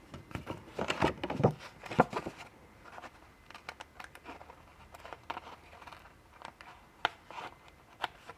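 Scissors snip paper and card while Christmas cards are crafted for scrapbooking, a series of soft close crisp cuts and rustles at an uneven pace, quiet and without talk.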